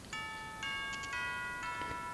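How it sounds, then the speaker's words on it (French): A school bell rings in Pokémon Moon as a series of clear electronic chime tones, several bright dings in quick succession, alone with no talk. "c'est la cloche de l'école."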